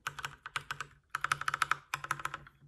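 Rapid keystrokes on a new computer keyboard, coming in three quick bursts of clicky, fairly close taps with brief pauses between them, and no voices.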